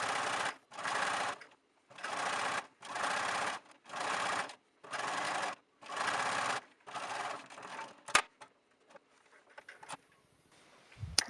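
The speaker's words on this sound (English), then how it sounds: "It will get a little bit stretched out because it is going through a sewing machine" A sewing machine runs top stitching on a shortened knit sweater in a series of about eight steady whirring bursts with short pauses. Quiet clicks and handling noises follow.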